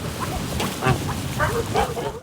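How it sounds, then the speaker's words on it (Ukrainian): Lavender ducks, a rare breed of Muscovy duck with soft violet-grey plumage, give a run of close, moderately loud quacks and calls over a farmyard background. "вирощує лавандових качок, рідкісну породу з ніжним фіолетово-сірим пір'ям"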